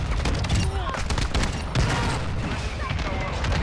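Dense, continuous gunfire from the KV Broadside shotgun in a multiplayer shooter game, loud and sustained with overlapping blasts and booms filling the whole stretch.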